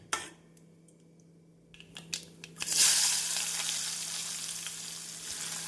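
A few clinks of a pan, then a sudden burst of sizzling and spluttering as mustard seeds, cumin and urad dal fry in hot oil, crackling steadily, close up.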